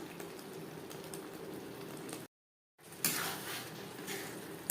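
Potatoes and Gobindobhog rice cook in a pan with a soft, steady crackling sizzle, broken by a brief silent gap before the frying noise resumes.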